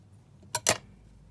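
Two quick snips of scissors cutting a small fabric ruffle piece for a snippet roll, sharp and close, the second slightly longer, in a quiet room.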